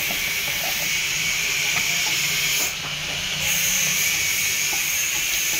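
Mutton drops into a hot pot of whole garam masala and cumin, giving a loud, continuous steamy hiss that swells and dips briefly midway, with no speech over it.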